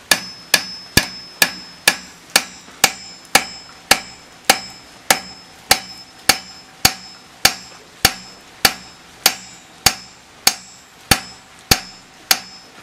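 A hammer strikes the tip of a knife blade during knife making, about twenty sharp metallic blows in a steady, even rhythm, each ringing briefly before the next.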